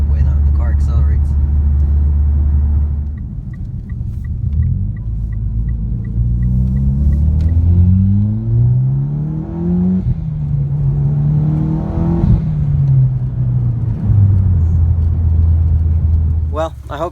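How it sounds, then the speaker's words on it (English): A Mitsubishi Lancer Evolution X engine revs and climbs in pitch several times under acceleration, loud and close, with a steady low rumble between the pulls. "it definitely made a huge difference on the way the car accelerates"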